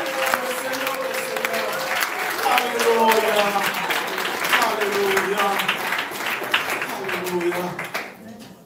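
A church congregation claps and cheers steadily for several seconds as a loud, dense wash of applause. A voice calls out over the crowd throughout.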